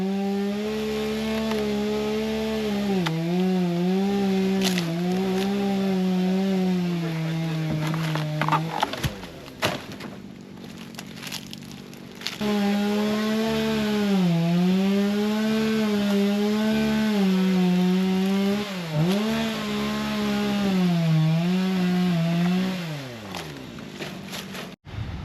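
Raw buzzing saw engine cutting into a swamp cabbage palm, its pitch rising and falling as the blade loads and frees up, cutting out briefly midway and then roaring back for a long second run.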